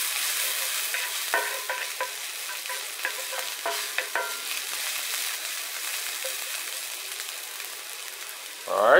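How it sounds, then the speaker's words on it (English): Onions caramelize in a pan for veal burgers, giving a soft, steady sizzle broken by a run of scraping, clicking stirs from a utensil, with a brief louder rustle at the very end. "Get our onions caramelized, changing color."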